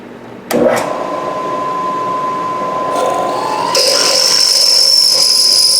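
A steady high whine of a drill bit spinning too fast in a lathe, starting abruptly and holding constant with a shift to a shriller tone near the end.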